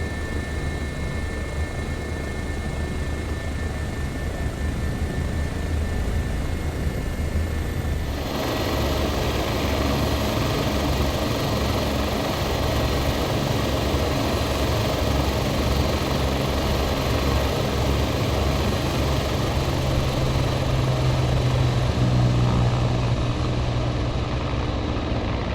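A Bo 105 helicopter in Microsoft Flight Simulator 2024 flies with a steady, droning rotor and turbine hum, the tone shifting and brightening partway through before continuing at an even level.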